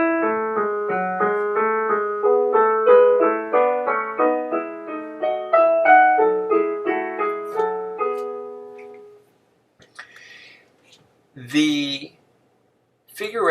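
A keyboard standing in for a church organ, with no pedal part, plays a fugal chorale passage with triplets, a steady run of layered notes for about nine seconds before it stops and a few scattered sounds follow.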